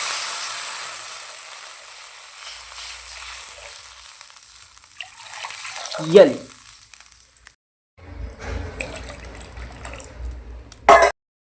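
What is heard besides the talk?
water poured into pan of frying potatoes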